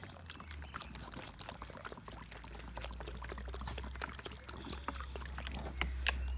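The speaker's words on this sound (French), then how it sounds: "je mets de l'eau dans les trous." Water poured from a container into planting holes in garden soil before setting out Brussels sprout seedlings, a steady close splashing trickle over faint outdoor background, with no talking.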